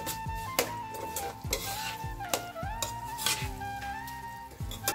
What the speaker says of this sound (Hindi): इसको लो फ्लेम पे 1 से 2 मिनट तक सेकना है